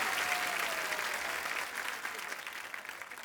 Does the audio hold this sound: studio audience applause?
yes